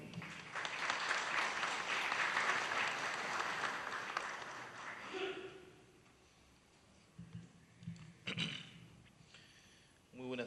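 Audience applause at a national law congress on real estate, urban planning and environmental law, a broad steady clapping for about five seconds that fades into quieter room noise with a few scattered sounds.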